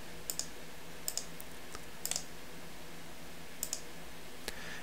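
Keystrokes on a computer keyboard entering a date of birth into tax software, sparse clusters of quiet clicks in short bursts with pauses between, close by in a quiet room.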